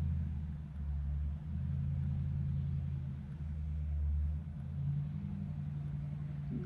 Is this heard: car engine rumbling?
yes